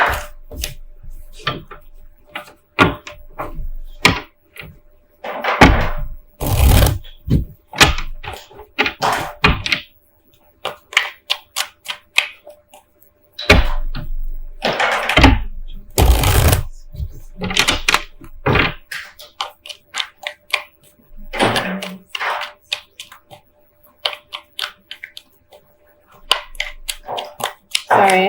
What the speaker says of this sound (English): Sorry, I have a toddler playing with blocks.